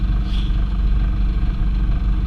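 A sailboat's inboard engine runs while motor sailing against the tide off Harwich in fog, making a steady, close, low droning rumble that holds even throughout with no pauses.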